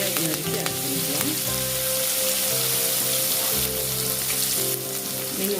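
Finely chopped large onion frying in oil with mustard seeds and cumin for appalam kuzhambu, a continuous close sizzle and crackle beneath soft background music.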